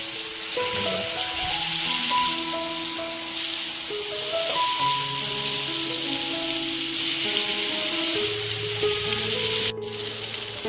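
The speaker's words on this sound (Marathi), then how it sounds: "तेल आपल्याला गरम करायचं तव्यावरती आणि आपल्याला ही कोळंबी फ्राय करून घ्यायची आहे" Shrimp frying in hot oil on a griddle gives a steady, close sizzling hiss that runs through the whole stretch, with tuneful background music layered underneath.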